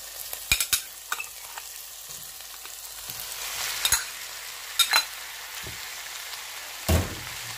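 Minced beef fries with golden, softened onions in a pan, a continuous close sizzle broken by sharp clicks and scrapes of a spoon stirring, with no voices.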